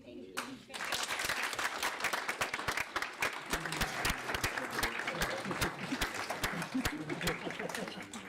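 Audience applauding at a school board governing board meeting, a sustained burst of dense clapping from many people after a short quiet start, with some voices mixed in.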